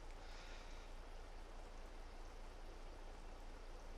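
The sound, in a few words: water filling in Farming Simulator video game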